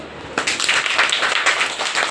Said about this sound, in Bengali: যদি আমি সত্যি বলি হাততালি দাও।